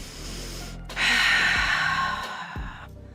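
Heavy, audible exhalation during a yoga pose in a power flow class, a long breathy sigh-like breath out, close and moderately loud, followed by a softer breath, with no talking.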